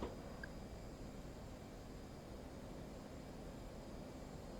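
Aircraft in a flight simulator game drones steadily throughout, a low constant engine rumble with broadband wash, fairly faint and unchanging, with no talk over it.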